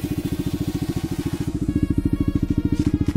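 Motorcycle, apparently a Triumph Trident, idles through an aftermarket exhaust set to its loud street mode, a close, steady, throbbing pulse with rapid, even firing that swells slightly halfway through.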